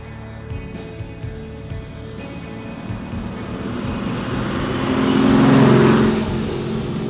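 A car comes down a street, its engine growing louder as it draws near and passes, then easing off, under a steady background hum.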